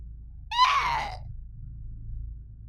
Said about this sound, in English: It let out a loud screech.